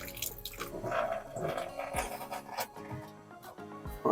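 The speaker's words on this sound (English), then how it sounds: "just put a little bit more water into it" Water trickles and drips as it is poured into a resin mold. The splashing sounds close but soft and comes in uneven bursts over a few seconds, with faint handling noise and no talk.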